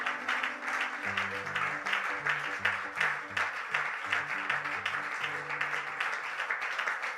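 A church congregation claps steadily and continuously throughout, while organ or keyboard chords play along underneath, a lively worship moment in a large room.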